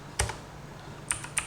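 Computer keyboard keys are typed while a device is configured in Packet Tracer: a few crisp, close clicks, one early keystroke and then a quick pair near the end, with no talk.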